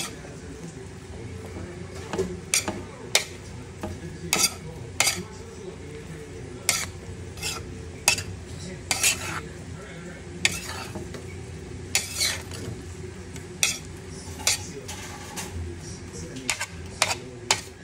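Bittermelon and eggplant are stirred in a pan over a low frying sizzle, with a spatula clacking and scraping against the metal in irregular bursts throughout, and a faint hum underneath.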